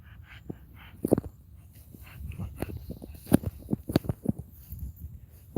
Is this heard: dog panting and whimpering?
yes